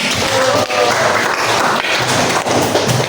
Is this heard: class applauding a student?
yes